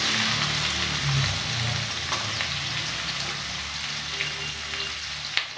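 Chopped onions fry in oil in a wok (kadai) over a gas flame, a continuous close crackling sizzle with faint low hum underneath and a sharp utensil tap near the end.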